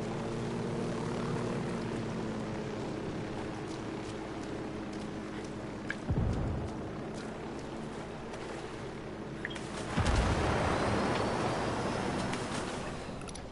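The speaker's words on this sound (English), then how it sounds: "There goes the copter." Helicopter flying in Ghost Recon Wildlands, a steady droning rotor and engine hum that swells into a louder, rushing pass in the second half, with no talking.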